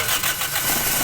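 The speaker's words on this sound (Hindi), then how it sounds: "स्टार्ट होके गाड़ी बंद हो जाती है।" A 2010 Toyota Corolla with a faulty engine control module cranks up close and briefly catches before dying, a short burst of rough engine noise.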